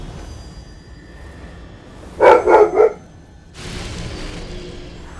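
Dog barking in the video game Code Vein, three quick loud barks in a row over steady ambient background, then a broader rushing noise afterward.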